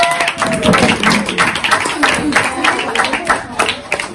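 Audience applause at a magician's Eid festival show in Sweden, a steady patter of many hands clapping throughout, fairly loud and close, with voices audible over the clapping.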